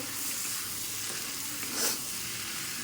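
Jackfruit curry sautéing in a pan, a steady, close sizzle with faint stirring scrapes and no talk.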